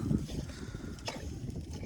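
Steady low rumbling of strong winter wind at minus 11 degrees buffeting the microphone, loud and continuous, with no talk.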